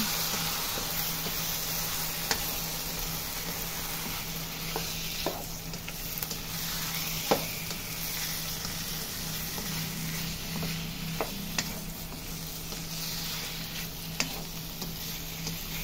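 Bicol Express stirred in a sizzling pan with shrimp paste: an even, steady hiss of frying runs throughout, with occasional light taps and scrapes of a spoon, close and moderately loud, no talking.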